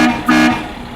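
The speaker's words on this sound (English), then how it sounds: "Instant air horn." A truck's cab-mounted air horn, worked by a pull handle, blasts twice in quick succession, loud and close, the second blast longer and brighter than the first before it fades away.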